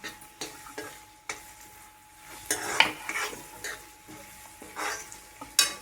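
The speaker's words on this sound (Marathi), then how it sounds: "आता जो कांदा आहे तो तेलात व्यवस्थित परतून घ्यायचा" Onion sautéing in oil in a pan for a mixed vegetable dish, with a soft sizzle under intermittent scraping strokes and light clinks of a spoon against the pan, close and fairly quiet.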